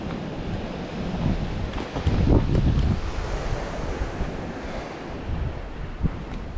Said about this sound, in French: Donc là, on est au bord de la plage.